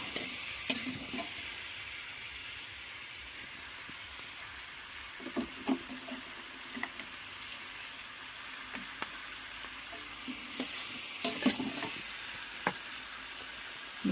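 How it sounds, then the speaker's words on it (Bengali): Curry sautéing in a pan while being stirred, a steady low sizzle broken by scattered scrapes and clinks of the spoon, with a louder burst of stirring near the start and again toward the end. "এগুলো দিয়ে ভালো করে কষিয়ে নেব"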